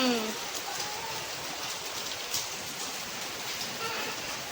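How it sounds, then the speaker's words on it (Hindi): Steady, dense rain hissing across the whole clip, a broad wash of drops with faint background voices near the start. "फाइनली बहुत तेज़ बारिश हो रही है।"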